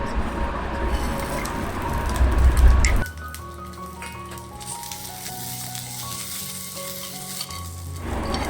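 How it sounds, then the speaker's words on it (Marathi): Garlic, ginger and green chilli roast in half a spoon of oil in a pan, giving a loud, dense sizzle that drops after a few seconds to a steadier, quieter crackle with occasional stirring. No voices are heard. "हे सगळं ना मी आता अर्धा चमचा तेल घालून सर्व मसाले मी खमंग सुवास येईपर्यंत भाजून घेणार आहे"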